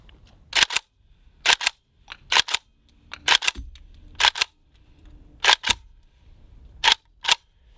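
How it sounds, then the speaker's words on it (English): An AK rifle action cycled by hand, rounds racked through the bolt one after another: seven or eight sharp, loud metallic clack pairs, close-up and evenly spaced, with no talk. "I'm just going to start out by hand cycling 5 rounds, and we'll check the bolt"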